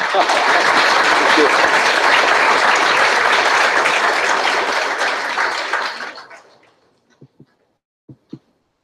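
An audience at a career guidance talk for engineers applauds loudly for about six seconds, then the clapping fades out, leaving a few faint thumps.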